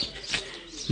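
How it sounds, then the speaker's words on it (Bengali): A short, soft bird call over quiet outdoor background on a secluded, green road in Aritar, a single coo-like note rising briefly before fading. "শুধু পাখি ডাকছে, রাস্তাটা একদম নিরিবিলি"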